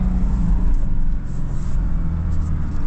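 A manual 2025 Toyota LandCruiser 76 Series climbs off-road in first gear at light, steady throttle, its engine giving a low, continuous rumble with slight wheel-spin fluctuations, close and constant.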